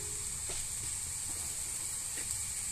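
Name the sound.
meat cooking in a pot for couscous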